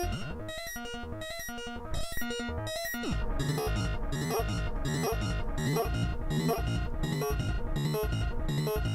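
Stretched, warped audio makes a dense, chaotic wash of shifting tones and stuttering pulses that plays loud and continuous throughout, with no talking.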